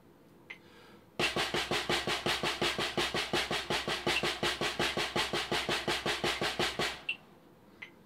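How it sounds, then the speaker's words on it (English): Snare drum sticking exercise from Stick Control, alternating single strokes starting with the right hand: about thirty even, steady hits played alone at moderate tempo, bracketed by faint metronome ticks before and after. "The first one starting with the right hand, right, left, right, left, right, left, right, left"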